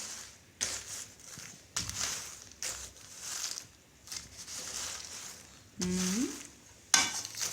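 Peanuts roasting in a large pot are stirred in repeated scraping, rattling strokes, each burst of dry shuffling separated by short pauses, close and fairly loud with a faint sizzle underneath.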